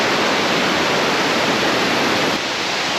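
Rushing creek water loud and steady near waterfalls in Shenandoah's Little Devils Stairs, a broad continuous roar washing over a flooded trail with no voices.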